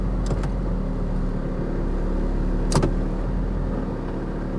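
A high-mileage 2019 Infiniti Q50 Lux runs at a steady idle while being shifted into gear, giving a continuous low engine hum with a couple of brief clicks and one short sharp knock partway through.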